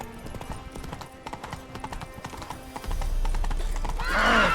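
Roach, a horse in the video game The Witcher 3, trotting with steady rhythmic clip-clop hoofbeats, then breaking into a louder gallop and letting out a close, ringing whinny at the end.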